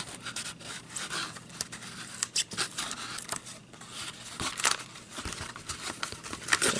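Scissors snip through foam mounting tape in a series of close, crisp cuts and crinkly rubs, with no talking.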